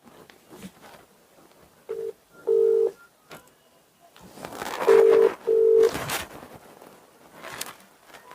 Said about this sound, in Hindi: तो हम उनको अभी फोन लगा रहे हैं